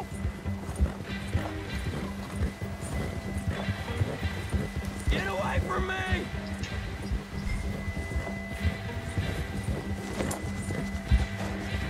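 Horse hooves clip-clop in a steady rhythm in Red Dead Redemption II, moderately close, as people chat over the game sounds.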